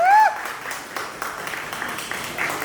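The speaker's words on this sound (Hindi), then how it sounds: "प्लीज तालियां रुकनी नहीं चाहिए।" A studio audience claps steadily for a performer being welcomed at a TV show launch, a moderate, continuous patter of applause after a brief shout at the start.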